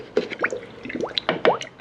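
Water poured into the coolant system of a Subaru SF5 Forester during a coolant flush, heard as short splashing, gurgling bursts and drips close by, in uneven spurts over a couple of seconds.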